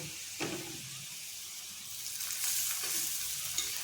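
Banana slices sizzle softly in hot oil as they are flipped in the pan, a faint steady frying hiss with a couple of brief scraping stirs.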